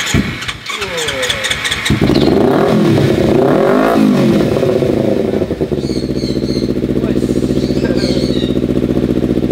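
A motorcycle fitted with a CLD racing exhaust is started, cranking and catching, then revved hard a couple of times before settling into a loud, steady, throbbing idle close by.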